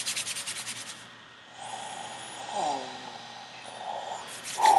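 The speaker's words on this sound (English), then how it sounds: "Rub your hands together." Hands slicked with a little lavender and peppermint oil rub together in a soft, close, dry swishing, with brief sniffing breaths in between.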